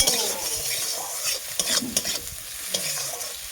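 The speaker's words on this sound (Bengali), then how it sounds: "সেই টমেটোগুলো দিয়ে দেবো। দিয়ে একটু ভালোভাবে নাড়াচাড়া করে নেব।" Chopped tomatoes sizzle in a frying pan for a spicy potato and fig curry while a spatula stirs and scrapes them briskly, close and continuous with uneven clatters.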